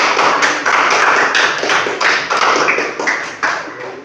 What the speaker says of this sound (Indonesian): tepuk tangannya untuk kelompok 3